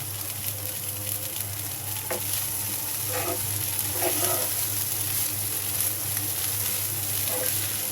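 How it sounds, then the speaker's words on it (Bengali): Green chilies frying in a pan give off a soft, steady sizzle throughout, with a few light stirring scrapes along the way. "স্বাদ মতো কাঁচামরিচ দিব একটু একটু ভেজে নিই"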